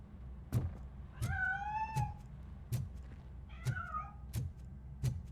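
A cat meows several times as it escapes from a hiding spot inside a house, clear, fairly close wavering cries between sharp knocking taps.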